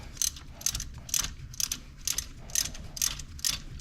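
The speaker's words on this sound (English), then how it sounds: "Now I can take my ratchet" Steady, rhythmic clicking of a hand ratchet tightening the top bolt on a C7 Corvette drive belt tensioner, about eight even back-and-forth strokes, close and clear over a faint low hum.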